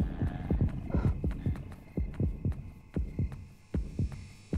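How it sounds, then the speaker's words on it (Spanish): Heartbeat sound effect from the horror video game Yomawari, a steady looping lub-dub thump at a slow throbbing pace over a low hum, with no talking. "Estamos con los latidos."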